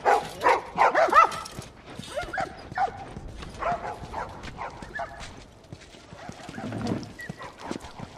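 Several dogs bark and yip in a quarantine-zone market scene from The Last of Us, sharp bursts clustering early, then scattered through a busy background with faint hoof-like clops and a whimper.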